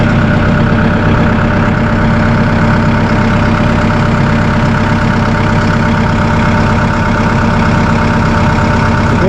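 A Massey Ferguson 2E.60 compact utility tractor with an open station sits at idle, its engine giving a steady, loud, unbroken rumble with an even mechanical hum throughout and no voices.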